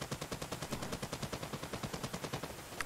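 Rapid automatic gunfire in the video game Hawked rattles off in a steady, fast rhythm for about three seconds, loud and continuous, with no voices.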